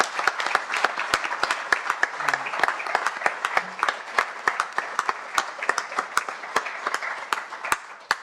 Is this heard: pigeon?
no